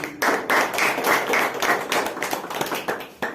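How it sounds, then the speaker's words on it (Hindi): Congregation clapping hands loudly at a Sunday evening church service, a close, strong burst of rapid overlapping claps that begins abruptly, keeps going and thins out toward the end. "क्यों ना हम परमेश्वर के लिए जोरदार ताली बजाएं"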